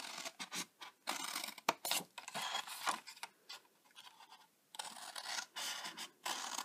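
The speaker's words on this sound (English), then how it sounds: "We've done our snipping." Scissors snipping through paper sections: a quiet run of crisp cuts and scratchy scrapes, some close together and some spaced out, with short pauses between them and no voices.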